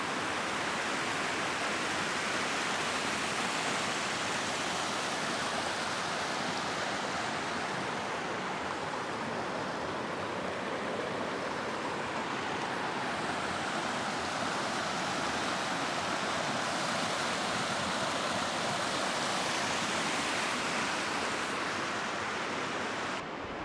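The Mohaka River flows through a New Zealand valley as a steady, full rushing roar with no breaks, unchanged for over twenty seconds and with no voices.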